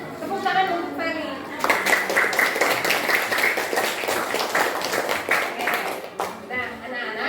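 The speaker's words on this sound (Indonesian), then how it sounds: "Tepuk tangan untuk Feli." Children in a classroom clap together for a classmate named Feli, a quick burst of rhythmic clapping after a teacher's voice, then the clapping trails off as the talk resumes.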